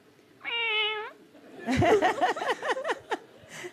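A woman imitates a cat meowing, a single drawn-out, clear meow up front, followed by a burst of laughter and chuckling from several people.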